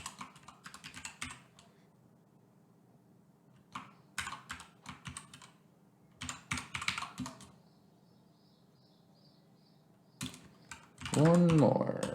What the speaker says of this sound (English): Good typing experience or practice.